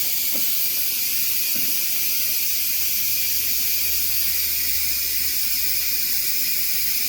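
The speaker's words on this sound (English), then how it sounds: "It's going to take it a couple of minutes for it to actually release the steam off." Steady, loud hiss of steam venting from a Cook's Essentials pressure cooker during quick release while cooking rice, continuous and unbroken with a faint low rumble underneath.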